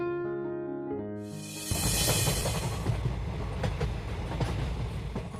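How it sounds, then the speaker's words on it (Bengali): A train pulls into a small rural station on a rainy night as a sound effect in a Bengali horror story: a brief tonal tone, then a loud, steady rumble and rhythmic clatter of wheels close by, with no talking. "মতিপুর স্টেশনে যখন ট্রেন এসে থামল"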